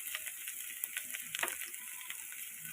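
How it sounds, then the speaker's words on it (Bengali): Boiled potato frying in a pan with dried fenugreek leaves, salt and sugar gives a soft, steady sizzle with light stirring scrapes, faint and continuous with no talk. "চিনি একসঙ্গে দিয়ে ভাজা ভাজা করতে থাকবো।"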